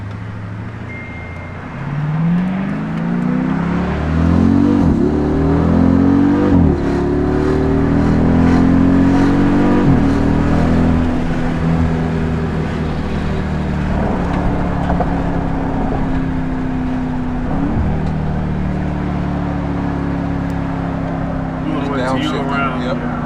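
Dodge Charger 392 engine revving up through the gears with paddle-shift upshifts, rising pitch sweeps that repeatedly drop and climb again, loud and close from inside the car, with people talking over it.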